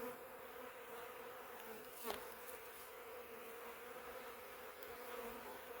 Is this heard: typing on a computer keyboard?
no